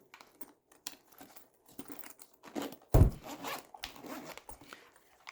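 A zipper runs around a massage gun carry case in short rasping pulls, close and fairly quiet, with one louder tug in the middle.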